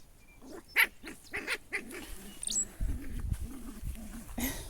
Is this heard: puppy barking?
yes